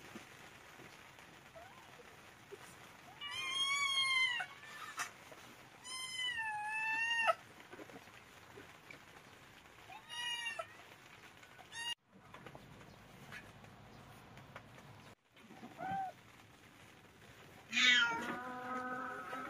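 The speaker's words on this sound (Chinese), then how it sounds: "这那只残疾的小猫啊，" A disabled kitten meows in several drawn-out, rising calls spread through the stretch, close and clear over a steady rainy outdoor background, with no talking.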